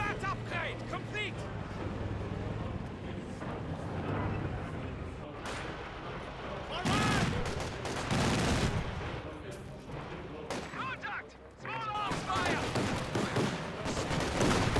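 Maxim machine gun in Company of Heroes 2 firing in sustained bursts amid a dense battlefield mix of other gunfire and explosions, with announcer voice lines and commentary talk over it.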